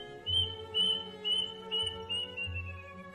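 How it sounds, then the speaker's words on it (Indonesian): A plaintive cuckoo (kedasih) calling: a series of clear, thin whistled notes repeating in a slow, steady rhythm over a steady tonal hum, with no voices. "suara burung kedasi ini memang terdengar cukup menyeramkan, yang terkesan seperti sebuah rintihan kesedihan"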